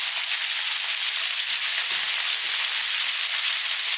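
Sweet and sour pork sizzles and hisses loudly in a hot Chinese wok as it is stir-fried, a steady, bright frying crackle that runs unbroken without any speech.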